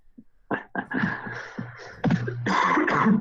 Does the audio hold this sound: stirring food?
no